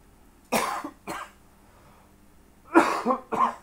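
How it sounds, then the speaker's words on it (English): Several harsh, close, chesty coughs bringing up congestion from the lungs come in two bursts, two quick ones, then a pause, then three more in a row. "still coughing up a lot of the stuff that's been in my lungs"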